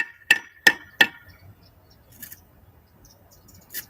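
Three sharp, ringing hammer taps on an 8-inch concrete block being laid in a wall, in quick succession, followed by quieter knocks and a final light tap.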